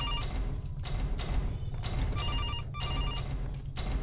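A telephone rings in the horror video game CASE 2: Animatronics Survival. There are several loud, repeated ring bursts separated by short gaps, over a steady low rumble of game ambience.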